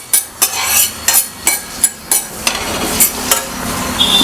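Lotus seeds dry-roasting in a pan with no oil, stirred with a utensil in a steady rhythm of sharp scraping clicks about twice a second, close and fairly loud, with a light rattle of seeds between strokes.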